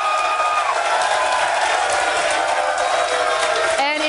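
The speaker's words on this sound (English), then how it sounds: "If you're a Cowboy fan, make some noise. Let me hear you." Crowd of Cowboy fans at a live sports talk show cheering and yelling in a sustained loud roar, with voices shouting over it.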